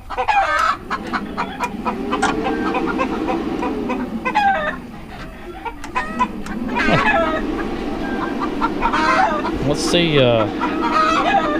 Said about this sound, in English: The chickens are going crazy.